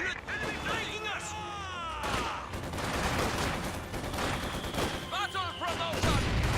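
Gunfire in a World War II strategy video game battle, dense bursts of shots and machine-gun fire with explosions, overlaid by in-game voice callouts and a commentator talking throughout.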